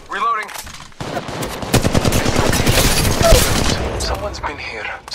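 Rapid automatic gunfire from a firefight in the Apex Legends Mobile shooter game, dense bursts of shots running almost continuously and loud, with game voice callouts mixed in.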